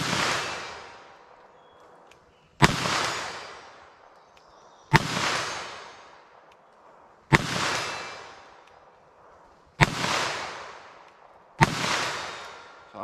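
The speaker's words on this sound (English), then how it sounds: "let's see what I can do with our 22 mag revolver" .22 Magnum revolver shots fired at steel targets crack out six times at a steady pace of roughly two seconds apart, each loud report decaying into a long outdoor echo.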